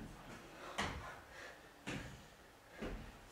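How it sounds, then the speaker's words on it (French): Crutches knock on a stage floor in a theatre performance, three soft, spaced thuds at a slow walking pace, faint and unaccompanied. "C'est le bruit des béquilles."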